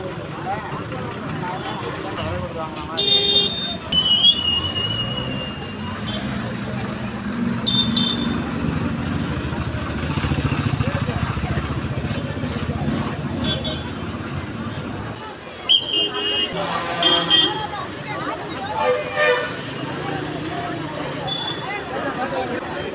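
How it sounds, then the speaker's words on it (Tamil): A busy bus stand in Oddanchatram carries steady engine and traffic noise with crowd chatter, as private buses sound a few loud horn blasts near and far. "செம்ம டிராஃபிக்லாம் ஆகிட்டு இருந்துச்சு"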